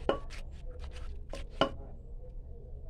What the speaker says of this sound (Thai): บุบให้มะเขือเทศมันช้ำๆหน่อยนะเพื่อนๆมันจะได้ไม่แข็ง